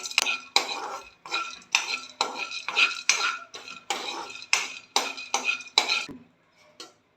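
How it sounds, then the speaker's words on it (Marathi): Dal dry-roasting in a pan for flaxseed chutney is stirred with brisk, rhythmic spatula scrapes against the metal, about a dozen close strokes before it falls quiet. "डाळ भाजून घेते आहे"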